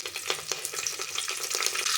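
Whole spices, a cinnamon piece, cloves and a bay leaf, with cumin, sizzle in hot ghee and oil for masala khichdi, a close, bright crackling spatter with quick pops throughout.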